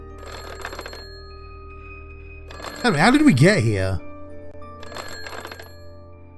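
Telephone ringing in the video game Bad Dream: Coma, three spaced bursts of an old-style bell ring, with someone speaking loudly over the middle ring.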